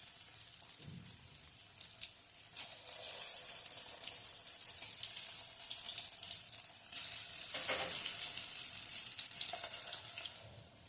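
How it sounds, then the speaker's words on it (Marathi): Small corn bhaji fritters frying in hot oil over a medium flame give a steady, close hiss with crackling pops that swell and ease over about ten seconds, with no voices. "मीडियम फ्लेमवर आपण आता भजी तळून घेणार आहोत"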